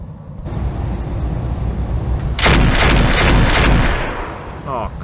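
Rapid rotary autocannon fire from a Battletech mech game, a loud sustained burst of chattering shots with booming impacts over a rumbling background.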